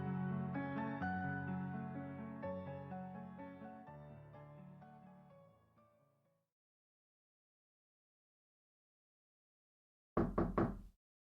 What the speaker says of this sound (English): Loud knocking woke her